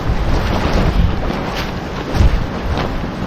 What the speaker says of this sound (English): There's a slight wind.